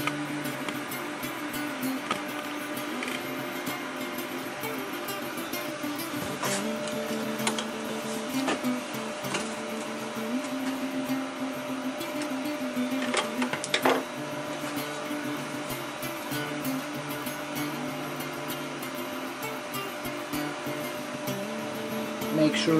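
A sewing machine stitching a carrying loop onto an EDC organizer, its steady mechanical whir and rapid ticking running close and continuous throughout, with no talk.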